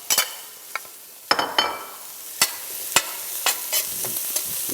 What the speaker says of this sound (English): Allow this to saute for a couple of minutes.